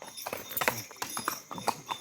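Horse hooves clip-clop in an uneven series of sharp, close knocks, with faint voices in the background, on a holiday outing around the Nainital lakes.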